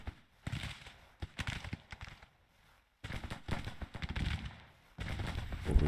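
Musket and rifle volleys in a Grand Tactician Union campaign battle crack in uneven bursts separated by short pauses, with dense crackling clusters of shots and no voices over them.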